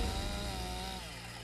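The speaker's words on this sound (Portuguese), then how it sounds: "Para isso, usam uma motosserra." A chainsaw drones steadily at a fairly even pitch as it cuts through a rhino's horn in South Africa, heard up close with no voices.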